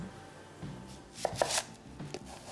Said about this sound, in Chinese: 将这些甜菜根嫩叶洗净后切碎，搭配一些香菜